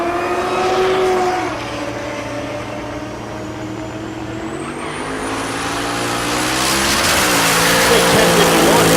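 A ZL1 Camaro drag racing at Tulsa Raceway Park, its engine a steady loud drone that dips midway and then builds again. A commentator talks over it throughout.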